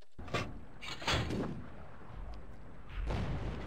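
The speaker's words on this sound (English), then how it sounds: "bang! Another shot." Nashorn tank destroyer firing its main gun in World of Tanks: two heavy, booming shots about a second apart, then a quieter stretch and a third thud near the end, moderately loud with reverberant tails.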